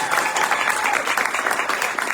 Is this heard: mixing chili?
no